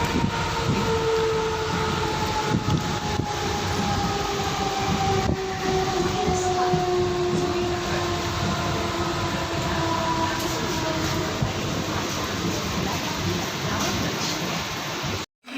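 A train rumbles along steadily from inside a carriage, a constant low roar with rattling and a long drawn tonal whine, ending abruptly.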